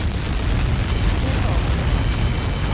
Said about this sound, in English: got caught in that explosion?